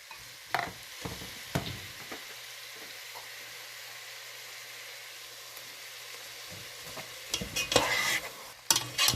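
Diced tomatoes cooking in a pot of vegan jambalaya, with a soft, steady sizzle and bursts of scraping and stirring near the start and end. Nobody talks.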